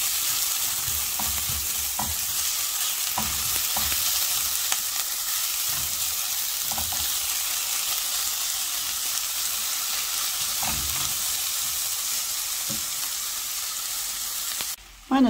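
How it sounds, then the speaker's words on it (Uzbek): Carrot, potato and onion fry together in a pan with a steady, close sizzle that runs throughout, broken by occasional soft scrapes and taps of stirring. "Mana sabzimiz bilan kartoshka piyoz qovurilyapti"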